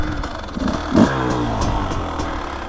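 A 2024 Beta 300 Race Edition two-stroke dirt bike engine revs up hard on a woods loop. It gives a close, raspy rising wail after a short burst near the start, then holds a strong, buzzing pull.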